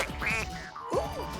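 A cartoon duck quacks in a few quick, nasal, close bursts, with a squeaky rising-and-falling call near the end, set in a children's animated town scene. No one speaks.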